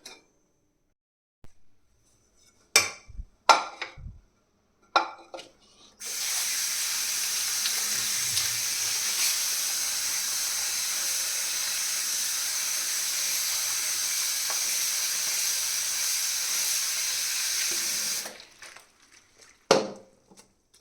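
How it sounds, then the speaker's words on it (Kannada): Mushrooms are rinsed under running tap water to wash off soil, with a steady broadband rush of flowing water lasting about twelve seconds after a few short handling clatters and knocks at the start and end. "ಸೊ ಬನ್ನಿ ವಾಶ್ ಮಾಡ್ಕೊಳ್ಳೋಣ ಫಸ್ಟು"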